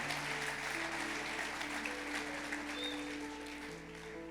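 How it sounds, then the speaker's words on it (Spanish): Church congregation applause at a conference service, a soft, steady crowd clapping layered over held keyboard chords, fading slightly near the end. "si quieres darle ese aplauso, dáselo fuerte al Señor"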